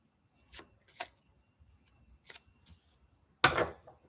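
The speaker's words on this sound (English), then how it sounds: "Sometimes when I pick it up to cut it, it'll feel like I didn't shuffle enough." Tarot cards being shuffled by hand, heard as a few short, close riffling bursts separated by quiet gaps, ending in one louder, longer shuffle.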